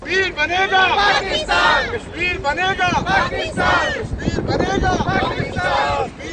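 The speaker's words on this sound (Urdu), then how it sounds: "مظاہرین نے بھارت کے ظلم کے خلاف خوب نعرے بازی کی۔" Kashmiri and Pakistani protesters in Manchester chant slogans against India. Loud, overlapping voices rise and fall in bursts of shouted phrases, with crowd noise and wind buffeting the microphone.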